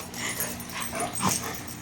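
Dogs play outside and give a brief, close dog vocalisation, a short bark or whimpering yip, over faint background noise in the open air.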